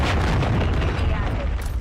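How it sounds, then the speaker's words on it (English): A cruise missile strike explodes in a video game as a loud, low, rumbling boom that fills the short moment and stays heavy throughout. "Hostile launched a cruise missile."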